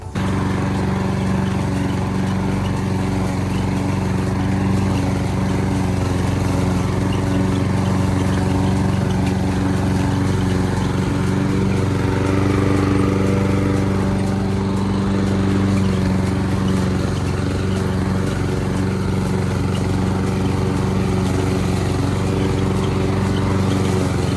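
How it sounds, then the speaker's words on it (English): A lawn mower cuts fairly long grass, its engine droning steadily and loudly up close the whole time, with a low hum that never breaks and no voices over it. "the grass is fairly long and the mower blades, they can only spin so fast"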